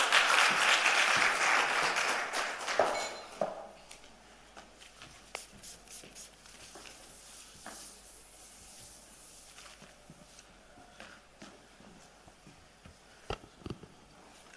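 An audience at a SACAA aviation event gives Mr. Shabalala a round of applause: loud, dense clapping for about three seconds that quickly fades to a few scattered claps and room noise.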